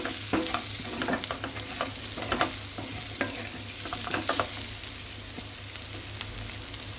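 Prawns fry in a pan, a close, continuous sizzle broken by frequent scraping and tapping strokes of a spoon against the metal, with no voices.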